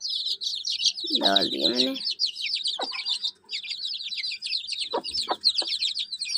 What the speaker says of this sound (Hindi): यार ये मुर्गी बड़ी तंग करती है मुझे